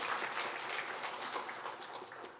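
A church congregation gathered for a worship meeting gives a round of applause in praise of God. It is an even, continuous patter of many hands, moderately distant, with no talking over it.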